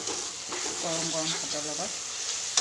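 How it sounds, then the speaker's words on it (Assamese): Crab frying with mestatenga in a pan: a continuous sizzle with stirring runs under a voice talking close by. "এতিয়া অকণমান ভাজি কেঁকুৰাখিনি দি দিম"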